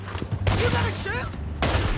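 Two loud gunshots crack out in Red Dead Redemption 2, one near the start and another near the end, with a character's voice speaking between them over a low rumbling background.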